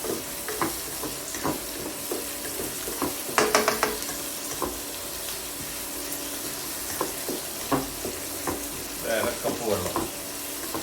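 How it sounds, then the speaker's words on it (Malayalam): Chili chicken frying in a pan while being stirred, with a soft steady sizzle, intermittent scraping stir strokes and a brief burst of clinking around the middle, close and moderately loud. "നമുക്ക് 2-3 മിനിറ്റ് ഒന്നിങ്ങനെ വരട്ടെടുക്കാം."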